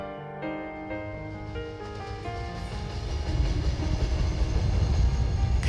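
A train on Korea's Gyeongjeon Line pulls away from an unstaffed station. A ringing mechanical tone gives way to a heavy rumble of wheels on rails that grows steadily louder.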